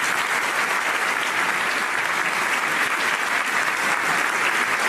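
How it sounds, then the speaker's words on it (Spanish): Sustained applause from an audience at an evening talk on Eucharistic miracles, welcoming a doctor to the stage, dense, steady and loud throughout with no voices. "Este público que lo espera le da un sonoro aplauso de bienvenida."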